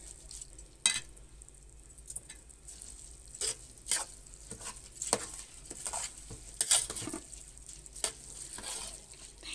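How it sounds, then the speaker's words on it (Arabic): Rice for stuffed cabbage being stirred and sautéed in a pot, with repeated scraping stir strokes over a steady sizzle of frying, close and moderately loud, no one talking. "لازم الرز ياخد تسبيكه كده والميه بتاعته تنشف عشان ما يعجنش"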